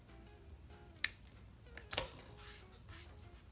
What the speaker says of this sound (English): So it's just snipping the excess here.